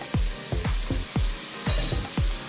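Onion sautés in a pan for a banana-flower thoran, with a quick series of soft, dull knocks and scrapes about twice a second over a faint sizzle, close by.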